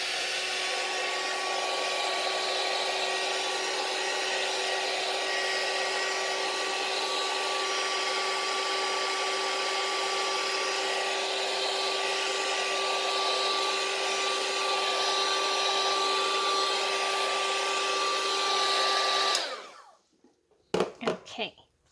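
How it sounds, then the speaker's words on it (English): Heat tool blowing hot air to dry ink on a Stampin' Up snowflake card, a steady loud whooshing hum running for about nineteen seconds before it cuts off, followed by a few faint handling noises. "we're going to use a heat tool"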